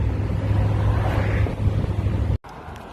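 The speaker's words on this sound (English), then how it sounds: "now we are in the back of a pickup truck getting a ride back to Newfound Gap" Steady, loud wind roar buffets the microphone while riding in the open back of a pickup truck, with low road rumble beneath, cutting out abruptly near the end.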